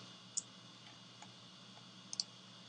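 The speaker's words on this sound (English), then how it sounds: "click, hold, drag, hold the shift key" A few quiet computer mouse clicks come against a low hum: one single click, then a quick close double click near the end.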